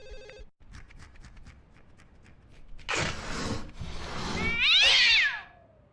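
A cat meows in the Ju-On: The Grudge video game, inside a cursed house near a taped-up closet, rising to a loud, drawn-out wail over eerie game ambience and rustling.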